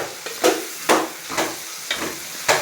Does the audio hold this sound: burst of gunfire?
no